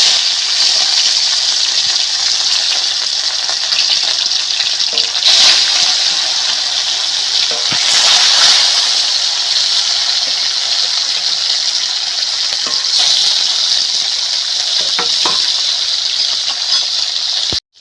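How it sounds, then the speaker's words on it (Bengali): Snakehead fish pieces fry in hot oil with a steady, loud, hissing sizzle that holds nearly unbroken for the whole stretch, with a few brief surges. "তেল গরম হয়ে গেছে। মাছগুলো এবার ভেজে নেব।"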